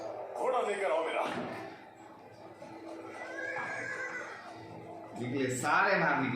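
A horse whinnies in a scene from the historical drama Ertugrul Ghazi, set among men preparing to ride out. The neigh comes through under speech and music, with fainter hoof sounds, and a louder burst near the end.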